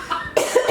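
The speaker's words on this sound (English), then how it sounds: "I had a cough and I couldn't hold it in." A single short, sharp cough, close and clear, with a brief rough burst of breath and no talking around it.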